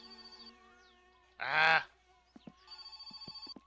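A telephone ringing in the video game My Summer Car, a short loud burst of ringing over a background tone, then further rings, with a brief exclamation from a voice.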